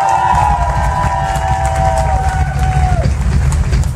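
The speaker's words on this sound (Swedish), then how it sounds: "En stor applåd för dem!" A concert crowd at a live show at Kulturbolaget in Malmö cheers and applauds in a continuous roar, with a high whistle-like tone sliding downward before cutting off.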